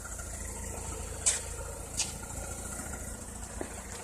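A 2004 Mazda RX-8 rotary engine idling smoothly, a steady, even low hum with a couple of faint clicks, heard alone at close range.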